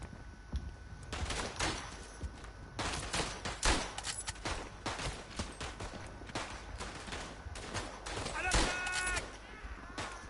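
Gunfire in the World War I shooter Verdun, set in a trench: sharp rifle and machine-gun shots crack repeatedly, some near and loud, others distant, spread across the whole stretch.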